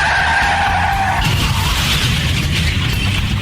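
A truck skids hard as a deer jumps in front of it on the drive home from a game, a loud tire screech sliding into a rough rumbling scrape that fills the whole moment, with no voices over it.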